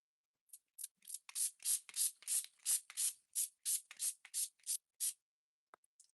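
Setting spray mists onto a face in a run of about fifteen quick, breathy pumps, each a short airy hiss in a steady rhythm, close and alone, with one or two faint taps after the spraying stops.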